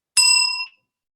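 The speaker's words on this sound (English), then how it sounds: "We will ring a bell 1 minute before timeout." A single bright timer bell strike rings out clearly and decays over about half a second, with no voices around it.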